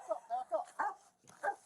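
A dog barks in a quick series of short, moderately loud woofs and yips, with a brief pause before a final bark.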